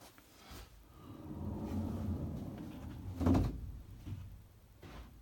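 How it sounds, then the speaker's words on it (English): A sliding barn door in a ranch vacation rental rolls along its track with a low rumbling slide that builds, then ends in a solid thud as it closes, followed by a faint knock. "For privacy, we have the sliding barn door. So there's the sliding barn door."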